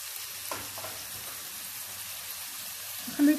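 Ginger frying in a pan, a soft continuous sizzle with a few faint clinks and a low hum, ending in a brief louder knock.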